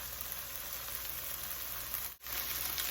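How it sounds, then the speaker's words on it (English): Onions sizzling steadily in a hot pan for a glass noodle stir fry, a close, even crackling hiss that runs unbroken apart from one brief dip. "the onions are cooking so well"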